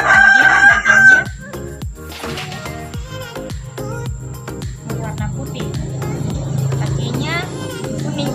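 A free-range village rooster (ayam kampung) crows loudly near the start, then clucking and other farmyard noises continue over a steady low background hum, with voices talking.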